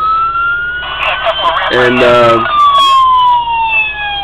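A custom 1/18-scale Forty Fort police department diecast car model runs code 3: its electronic police siren wails in rising and falling sweeps, loud and close, while a voice briefly speaks over it.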